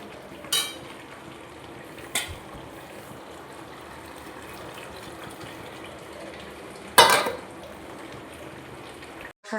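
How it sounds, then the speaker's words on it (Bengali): Mutton and potatoes sautéing in a pan with mutton stock, a continuous bubbling sizzle with a few sharp scraping stirs and clatters. "এটাকে আমি একটু মাটনের স্টকটা দিলাম, দিয়ে দিয়ে কষাচ্ছি।"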